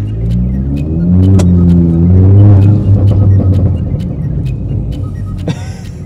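A VW Polo turbo engine revs up and falls back in a loud, close rumble, the pitch climbing and settling with a few light clicks over it.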